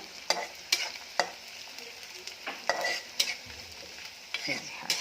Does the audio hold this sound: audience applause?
no